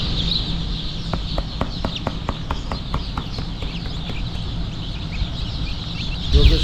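A crowd of chickens at a poultry hatchery clucks and chirps together over a constant background din, with a run of regular tapping knocks early on.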